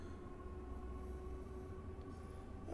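Simulated train in Train Sim World 5 rolls along with a steady low rumble and faint tonal hum, continuous and even throughout.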